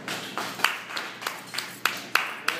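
Scattered audience clapping at a stand-up comedy show, a handful of separate claps landing in a loose, slow rhythm, fairly faint and roomy with no voices over them.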